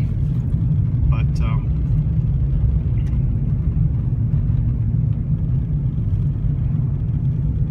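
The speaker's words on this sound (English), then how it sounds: "This little car I'm in, this old Ford Tempo, or whatever it is." An old Ford Tempo hums along a twisty downhill road with a steady low engine and road rumble from inside the cabin, continuous throughout, with a couple of brief higher chirps near the start.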